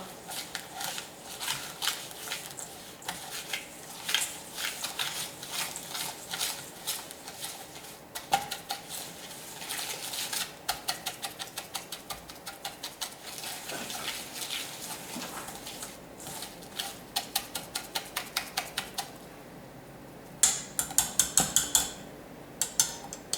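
Butter and a cup of sugar are beaten together in a mixing bowl, giving a steady run of fast clicking, scraping strokes that continue throughout, nearby and at moderate loudness, with no talking.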